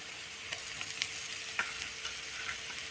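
Ginger and garlic paste sizzles steadily in a frying pan, with a few light scrapes and taps of a stirring spoon scattered through the continuous hiss.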